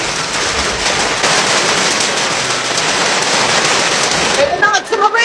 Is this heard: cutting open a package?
no